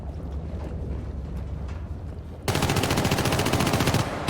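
Gunfire in the video game Syndicate, a dense rapid machine-gun burst that suddenly erupts after a rumbling stretch, loud and continuous until the end.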